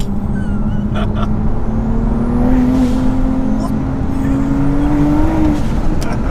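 A 625 bhp big-turbo BMW M2 engine drones loud and steady as it accelerates, its pitch climbing slowly through the gears, with a faint voice under the roar.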